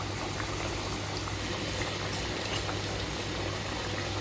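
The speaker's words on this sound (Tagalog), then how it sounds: "Magpakulo muna tayo ng tubig." A pot of water heats on the stove for cooking rice, giving a faint, steady hiss and low bubbling with no voices.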